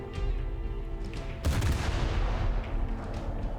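Warship main guns fire in a naval battle in War Thunder, a sudden heavy broadband blast about midway that rumbles on over a steady background of engine and sea noise, with no talking.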